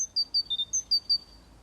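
A small songbird in a city park repeats about seven sharp, high chirps in a quick, even rhythm. The notes stand out clearly against near silence.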